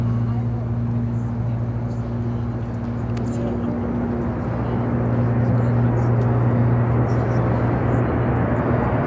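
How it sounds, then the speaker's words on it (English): A Turkish Airlines Dreamliner taking off at Chicago O'Hare, a loud steady engine roar with a sustained low drone that swells slightly toward the end. "Next takeoff will be that Turkish Airlines Dreamliner."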